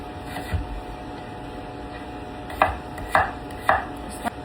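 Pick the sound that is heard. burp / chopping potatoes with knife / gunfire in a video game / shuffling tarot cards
chopping potatoes with knife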